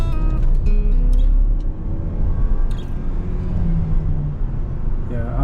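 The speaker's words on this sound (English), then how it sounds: "I'm gonna floor it." A 2024 GAC M8 luxury van in sport mode accelerating at full throttle, a steady low engine and road drone building gradually, fairly loud and continuous throughout with a faint tonal rise near the middle.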